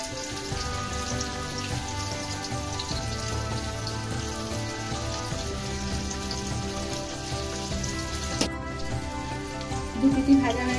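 Paneer pieces fry in hot oil for chilli paneer, a steady crackling sizzle close by, with a few louder pops near the end.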